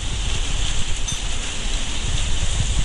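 Steady rain falling outdoors in mid-August, a dense even hiss of drops on surfaces that continues without pause at a moderate, close level, with no talking.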